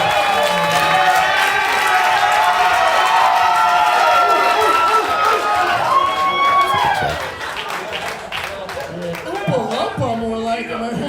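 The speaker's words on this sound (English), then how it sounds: "give him a round of applause" Comedy show audience applauding and cheering for a comedian, a steady roar of clapping and whoops throughout, with a host talking over it and a brief dip toward the end.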